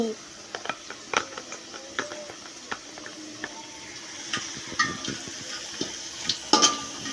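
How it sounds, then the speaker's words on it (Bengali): Steady frying sizzle of onions in ghee with intermittent scraping and clinks of a utensil stirring in a pan, close by. "ঘির সাথে পেঁয়াজ ভাজা হচ্ছে, দেখতে পাচ্ছ তোমরা সবাই"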